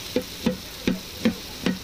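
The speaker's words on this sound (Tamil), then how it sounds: "வெங்காயத்தை சேர்த்து அதோட நல்லா கலர் மாறுற அளவுக்கு நல்லா கிண்டிக்கிட்டு" Onions for a fish gravy fry in a pan with a soft sizzle while a spoon scrapes through them in five evenly spaced strokes, close and clear.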